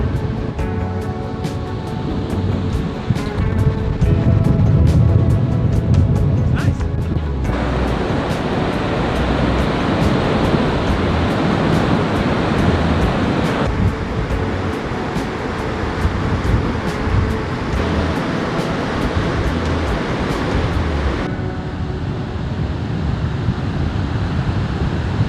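Waves break and wash on a beach near Whangārei, New Zealand, under heavy wind buffeting the microphone, a dense continuous roar of surf and gusts with no voices.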